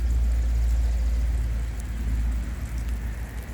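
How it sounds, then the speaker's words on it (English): Sprinkler irrigation sprays water over a plot of traditional leafy vegetables, making a steady, loud hiss and patter like heavy rain, with a deep rumble underneath. The sound runs unbroken throughout, with no voices. "This is sprinkle irrigation."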